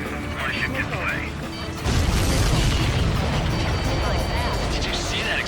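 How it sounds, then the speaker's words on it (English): In the Ace Combat 7 flight game, a supply ship blows up with a sudden loud burst that becomes a sustained roaring rumble over jet engine noise, while voices talk on the radio before and after. "Did you see that explosion? Looks like that's one of them down."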